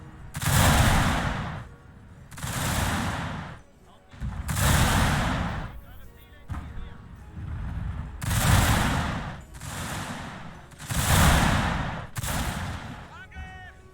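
Musket volleys from infantry firing by rank in Shogun 2, each rank discharging a loud ragged crackle of shots followed by a short lull, roughly seven volleys in regular rhythm with a voice narrating between them.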